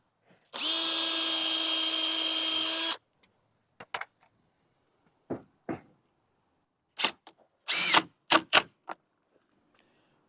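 A power driver spins colour coded screws into a composite slatted cladding board on a concrete block extension: one long steady whir, then a series of short sharp bursts and clicks, close by.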